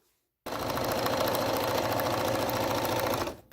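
A sewing machine runs steadily while stitching binding onto a quilt's edge, a fast continuous mechanical whir that starts abruptly after a short silence and stops near the end, loud and close with no talking.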